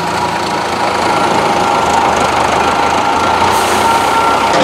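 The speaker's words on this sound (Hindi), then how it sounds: "ये आप देखो ट्रैक्टर भी बिल्कुल स्लो रेस में स्मूथ चल रहा है" A tractor engine runs at a slow, steady idle, a continuous low rumble with a faint knocking throb and no talking.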